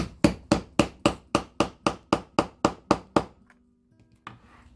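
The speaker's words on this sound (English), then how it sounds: "Okay, lined up, and start hammering." Hardware is hammered onto a leather purse with a steady run of about a dozen sharp, evenly spaced blows, close and loud, followed by a pause and a softer final tap.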